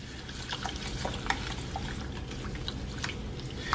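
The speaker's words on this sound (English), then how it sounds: "I'm just gonna fill the bowl with water and rinse the quinoa off." Quinoa gets rinsed in a bowl filled with water, with close splashing, sloshing and dripping sounds that come in uneven little bursts.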